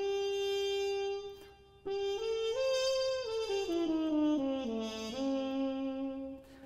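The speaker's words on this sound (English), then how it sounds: "one of my favorites, is the harmon mute or the bubble mute because it's shaped like a bubble." Trumpet with a harmon mute, stem removed, playing a short melodic phrase alone with a bright, buzzy, nasal tone, a brief pause, then sliding and bending notes.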